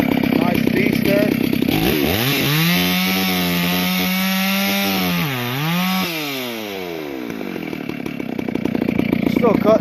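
A Stihl 066 chainsaw with a slightly dull chain on a portable sawmill cuts the first slab off a log. The loud, close engine roar holds steady, and its pitch dips and recovers as the bar bogs into the wood.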